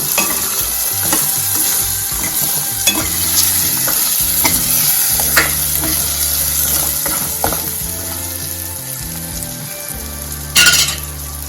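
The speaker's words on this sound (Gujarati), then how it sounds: "પાંચ મિનિટ સુધી આપણે જે સરગવાની સિંગ છે તેને આ રીતના તેલમાં સાંતળી સાંતળી લેશું" Drumstick pods sauté in oil for a Kathiawadi drumstick kadhi, a loud continuous sizzle with occasional scraping stirs and a sharp clatter near the end, close up and with no speech.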